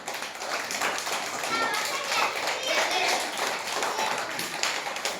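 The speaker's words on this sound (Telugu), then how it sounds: "claps claps" Children clap together in a Telugu alphabet lesson, a busy run of sharp, overlapping claps at steady loudness for several seconds, with young voices mixed in.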